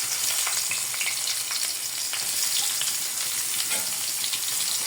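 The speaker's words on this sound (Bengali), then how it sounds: "পেঁয়াজ এবং মরিচটা ভেজে নেব।" Onion and chili frying in a pan, a steady close sizzle with light stirring scrapes running throughout, loud and continuous with no talking.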